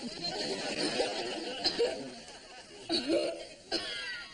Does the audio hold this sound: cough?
yes